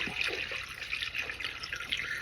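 Water poured into the cooling system of a 1.6-litre Mazda Miata engine, a soft, steady trickling and splashing with faint drips, quiet and close, with no talking.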